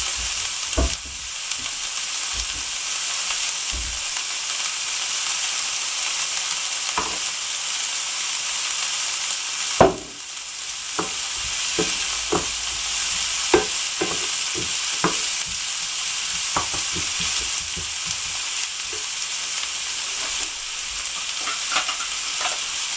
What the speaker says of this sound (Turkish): Yağ döktüm. Soğanlarımı koydum. Bunları kavuruyorum dedi.